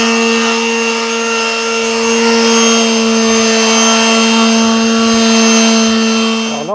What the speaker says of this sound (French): un petit coup de ponçage pour abattre l'arête